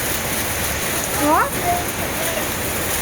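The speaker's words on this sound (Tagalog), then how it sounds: "Ngayon umuulan dito guys." Rain falls steadily in a continuous soft hiss, with a gentle breeze, and a voice briefly exclaims partway through.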